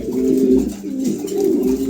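A pair of pigeons coos close by in low, throaty, rolling calls that repeat in a steady rhythm, fairly loud and alone.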